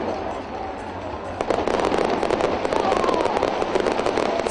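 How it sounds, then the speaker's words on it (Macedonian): Fireworks display over Macedonia Square in Skopje during the White Night event, a dense steady crackle of bursts and pops building after a quieter start, with a murmuring crowd faintly beneath. "Спектакуларниот огномет на плоштадот Македонија вчера вечер ја одбележа третата Бела ноќ во Скопје"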